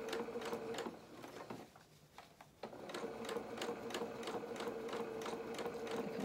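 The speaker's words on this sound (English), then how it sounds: "Sew off the edge and just reverse." A sewing machine stitches steadily through fabric, pauses briefly, then runs again in reverse with a rapid, even needle rhythm, close and clear with no talk.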